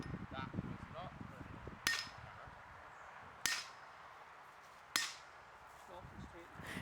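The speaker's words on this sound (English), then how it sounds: "Use the sledgehammer to hit the cap a few times." A sledgehammer strikes the driving cap on a metal fence post sleeve outdoors, making three sharp, ringing metallic clangs spaced about a second and a half apart over low background rumble.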